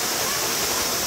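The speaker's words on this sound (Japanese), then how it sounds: "富良野滝です" Waterfall at Shukuya in Moroyama, Saitama, roaring as a steady, dense broadband rush of falling water, close and continuous with no voices.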